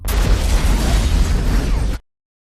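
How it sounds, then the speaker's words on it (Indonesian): A big explosion in a hospital scene from a film roars as a dense, loud blast lasting about two seconds, with deep rumble throughout, then cuts off abruptly into silence. "memegang tangan ayahnya dan menimbulkan ledakan besar di rumah sakit"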